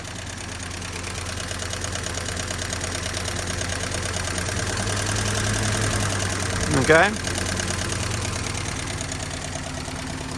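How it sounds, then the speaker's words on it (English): The engine of a 1954 Willys Jeep with a small muffler idles in a steady, even rumble, carrying a light mechanical ticking throughout, while someone speaks briefly over it. "That little ticking sound, you know? That's a little bit of the noise that we're getting out of this motor right here."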